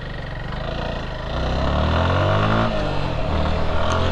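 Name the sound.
motorcycle riding on the highway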